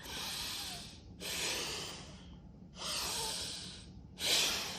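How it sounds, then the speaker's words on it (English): Four slow, deep breaths, each a long airy rush about a second long, follow one another with short pauses between them. The breathing is close and steady, with no talking. "Use deep breathing techniques to soothe yourself"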